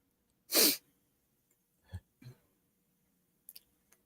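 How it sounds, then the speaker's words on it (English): One sharp sneeze bursts out, followed by a couple of small throaty sounds and faint clicks in a quiet room. "Yeah, I sneezed."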